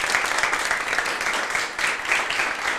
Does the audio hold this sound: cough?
no